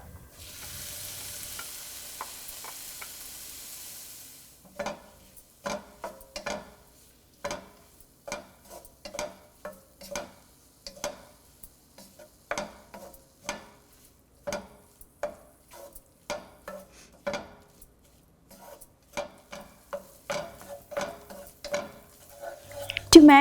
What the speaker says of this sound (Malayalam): ടൊമാറ്റോ ഇട്ട് വഴറ്റുക